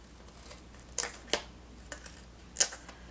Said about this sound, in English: using our paper scissors, we can trim off the excess